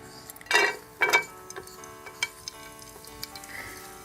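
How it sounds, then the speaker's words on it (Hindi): Chopped almonds roasting in melted ghee in a pan give short sizzling bursts and a few light clinks as they are stirred, close and fairly quiet. "इसमें हम ये कटे हुए बादाम डाल देंगे और इनको रोस्ट कर लेंगे।"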